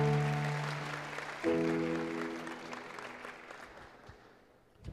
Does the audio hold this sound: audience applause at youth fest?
yes